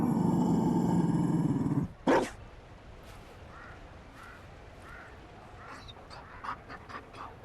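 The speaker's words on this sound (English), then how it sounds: "You found a dog?" Dog of the Mabari breed in a fantasy video game, heard panting and growling in a few soft, rough bursts after a loud droning passage ends, moderately near and without speech.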